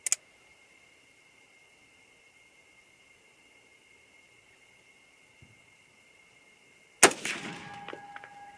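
A single loud .243 rifle shot firing a 90 grain Nosler ballistic tip load with StaBall 6.5 powder from a cold, clean bore, a sharp crack at a range followed by a short rumbling decay after a long quiet stretch.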